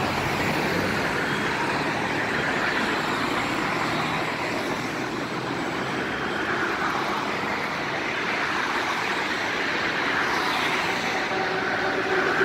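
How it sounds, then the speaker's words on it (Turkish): Road traffic rumbles continuously as a large bus passes nearby, its engine noise swelling and fading over a steady background roar. "Bir tane otobüs göründü."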